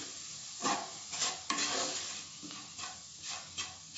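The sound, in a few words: masala being stirred and sautéed in oil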